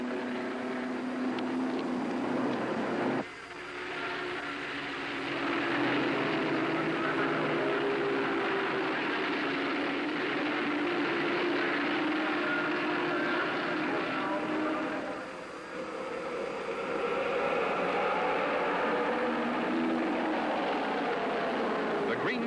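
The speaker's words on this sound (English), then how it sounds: "The cars start the pace lap with Jackie Stewart on the pole, followed by Graham Hill" Indianapolis race cars rolling off together on the pace lap, a dense, loud engine roar swelling from a field of cars with a brief dip early on, under faint commentary.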